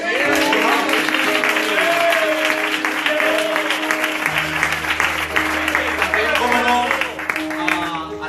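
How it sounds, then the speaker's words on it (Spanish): Audience applause for the author at a Spanish book presentation, a broad steady wash of clapping running throughout, with voices and musical tones sounding over it and a low hum entering partway. "por eso yo creo que se merece un aplauso"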